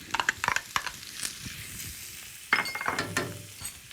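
Finely minced onion and chili frying in a pan for saag aloo, with brief clinks and scraping at first, then a fresh burst of sizzle and crackle as more goes in, steady and close.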